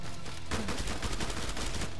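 A chain gun with a 500-round drum fires in Killing Floor 2 on a jungle map, a dense, rapid stream of close automatic shots running continuously throughout without pause.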